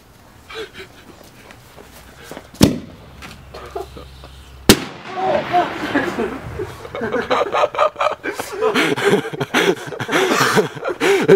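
Fireworks set inside a pumpkin go off as two sharp, loud bangs a couple of seconds apart, followed by a crackling burst of pops while people laugh and talk nearby.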